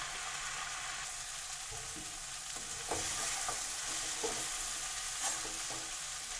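Pumpkin, releasing its water, is stirred and fried in a pan with a soft continuous sizzle, broken by scraping strokes of the spoon in an irregular rhythm.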